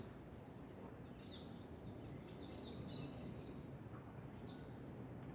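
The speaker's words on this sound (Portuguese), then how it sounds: "Eu acordo com o barulho dos pássaros" Birds sing in a morning setting, a string of bright chirps and short warbling phrases repeated over a faint, steady background hiss, fairly distant and with no talking.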